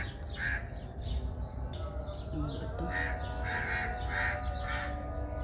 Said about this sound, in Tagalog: ayan, yung mga uwak. Nagkakagulo na sila